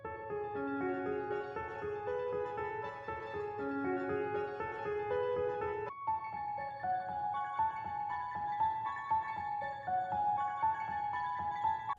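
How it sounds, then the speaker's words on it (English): Piano keys run through a textured preset that adds reverb and space, playing a soft repeating melodic phrase of sustained chords that shifts to a new pattern halfway through, with no talking. "And now with the effects, the keys sound something like this."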